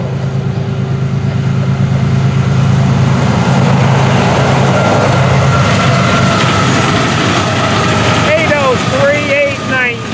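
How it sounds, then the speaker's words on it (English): A fast train with three engines rumbles loudly and steadily past close by, with wheel and engine noise throughout and a few high squealing screeches near the end. "here's a fast running train. Look at this, three engines on it"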